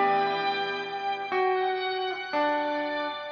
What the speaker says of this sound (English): Adds that octave above the reverb right there.